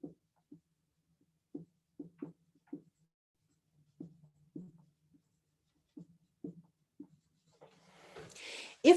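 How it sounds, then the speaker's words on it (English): Pen or marker writing by hand during a planning workshop, a string of short scratchy strokes spaced irregularly, close and quiet, with a louder shuffle at the end. "I'm just going to write it out"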